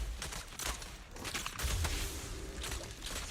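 Gunfire from the Zenless Zone Zero video game, a cluster of sharp shots and a bass-heavy burst mid-clip over a dense, continuous layer of game effects and music.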